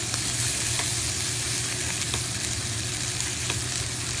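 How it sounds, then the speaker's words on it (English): Fish fillet sizzles in a pan while being basted with butter, a dense steady frying hiss with light spoon clicks scattered throughout. "And all you're doing here is basting it."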